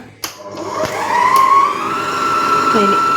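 An electric mixer beats jackfruit pulp for a cake, with a steady motor whine that rises in pitch and holds, preceded by a few clicks and knocks.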